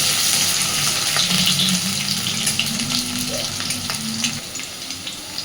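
Potatoes frying in a pan for a banana-flower kofta curry, a loud continuous hissing sizzle close by, with faint scrapes of stirring.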